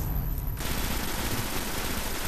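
A heavy weapon firing in the sci-fi shooter video game Destiny, heard as a loud, dense, continuous roar of rapid fire that swells to fill the whole clip after a brief opening moment.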